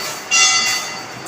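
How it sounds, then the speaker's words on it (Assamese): At a small railway station, a train arrives with a bright metallic squeal of wheels on the rails, rising sharply and then holding as a high, steady screech before easing. "ইয়াতে বেল পৰিছে, ট্ৰেইন আহিব।"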